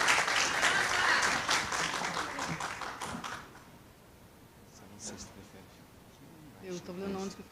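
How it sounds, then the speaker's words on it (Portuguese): Audience applause for a lecturer at an education conference, a burst of clapping for about three seconds that fades away, followed by quiet room noise and a voice starting to speak. "uma salva de palmas para a nossa conferencista."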